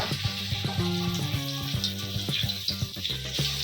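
Garlic paste and spices fry in hot oil, giving a steady, moderate sizzle with light clinks of utensils and hum in the kitchen background, no speech.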